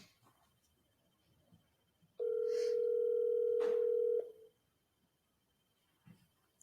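A telephone dial tone sounds while calling a broker: one steady, loud two-second tone, briefly cut by a click, then silence with faint room noise around it.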